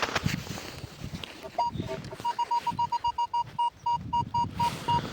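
A metal detector sweeping over a copper coin at an old German settlement site, giving a rapid series of short, evenly pulsed beeps, with soil scuffing and low rumbling, while someone talks over it.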